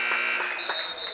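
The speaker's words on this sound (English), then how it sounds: "So the buzzer went off because even though they got the shot off, they'll blow that buzzer no matter what" Shot clock buzzer at a basketball game, a sustained electronic tone sounding over arena noise, moderately loud and lasting about a second.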